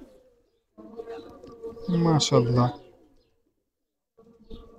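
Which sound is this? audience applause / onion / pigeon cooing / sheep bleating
pigeon cooing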